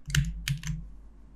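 Keystrokes on a computer keyboard come in three quick bursts of clicking, close and moderately loud, followed by a quieter stretch with no talking.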